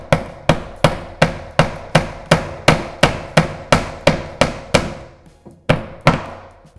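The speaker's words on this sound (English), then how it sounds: "a hammer can come in very handy" A hammer drives the pins of wire shelving into place: about fourteen sharp, evenly spaced knocks close by, each ringing out briefly, with a short pause before the last two blows.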